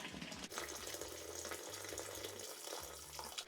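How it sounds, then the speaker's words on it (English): Boiling water is poured from above onto liquid malt extract for home-brewing a pale ale, a steady gurgling pour that runs unbroken, close and fairly quiet. "So the rest of the boiling water, that's going to go in on top,"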